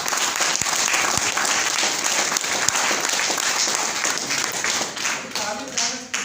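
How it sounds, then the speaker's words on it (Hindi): Loud, sustained audience applause filling a hall during a health talk, steady dense clapping with a few sharp individual claps standing out, easing slightly near the end. "जोरदार तालियां से बुला सकते हैं।"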